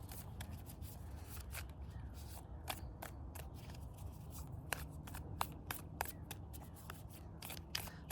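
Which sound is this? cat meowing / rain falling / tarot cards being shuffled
tarot cards being shuffled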